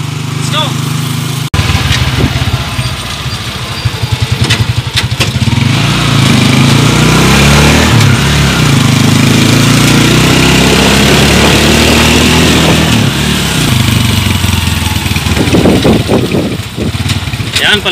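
A Skygo Boss 150 motorcycle fitted with a plus 3 extended swing arm and new tires, its engine running loud and close as it rolls out, with rising and falling revs over a continuous rough drone.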